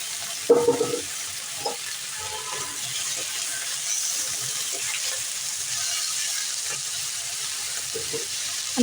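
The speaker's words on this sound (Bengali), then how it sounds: "আলুটা ভাজা হতে থাক" Potatoes fry in a pan with an even, continuous sizzling hiss. A few utensil knocks sound near the start, then the frying carries on alone at a steady level.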